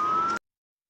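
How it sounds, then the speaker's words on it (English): An emergency vehicle's siren wails loudly and steadily amid a traffic jam in Hatay, Turkey, then cuts off abruptly after a brief burst. "You hear sirens all across"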